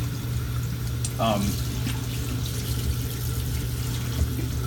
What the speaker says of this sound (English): running water for about 3 to 5 minutes